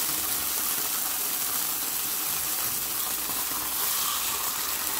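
Tofu frying in oil in a pan, a steady, even sizzle that holds constant from start to finish, fairly close, with no talking.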